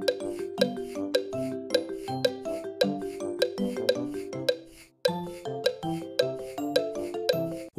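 Bright chiming pass-the-parcel tune from the Peppa Pig Party Time video game, a bouncy bell-like melody that halts abruptly in the middle, then starts again.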